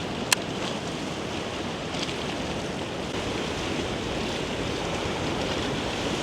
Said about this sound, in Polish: Widzimy tam gdzie się ta fala rozbija.